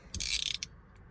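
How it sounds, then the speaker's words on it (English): A 19mm socket wrench ratchets as it loosens a steering wheel bolt on a Scion tC, a brief run of quick metallic clicks with a sharp rasp, then a lone click near the end. "to remove that one right there, a 19mm will do it."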